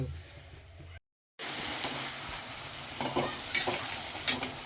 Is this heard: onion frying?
yes